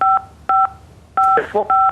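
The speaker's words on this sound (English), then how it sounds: "DSP Foster Asante, I think there's an interference with your pad, the notepad, the phone pad." Loud DTMF telephone keypad tones cutting into a live news broadcast phone line, four short dual-tone beeps in an uneven rhythm, with a brief burst of a voice around the third tone.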